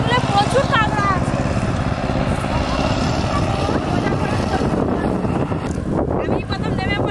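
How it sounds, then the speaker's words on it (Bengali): A power tiller engine drones far off across wet crop fields, a low steady hum buried under gusty wind buffeting and a nearby person talking. "ওই যে দূরে পাওয়ার টিলার হচ্ছে,"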